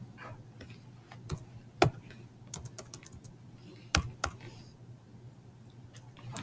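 Typing on a computer keyboard, scattered key clicks with a few sharper louder strikes, close and quiet over a low steady hum, with faint talk in the background.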